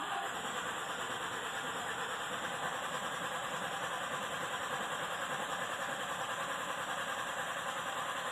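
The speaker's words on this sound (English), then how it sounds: "Foot to the floor, and we're going to crank." A car engine cranks with the accelerator floored in clear flood mode, a steady, loud, unbroken mechanical drone that holds evenly throughout with no voices.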